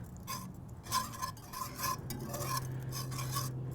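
A utensil stirring a whisked mixture with a few tablespoons of sauerkraut in a pan, producing rhythmic scraping and clinking strokes with light sizzle underneath, close and fairly loud, no speech.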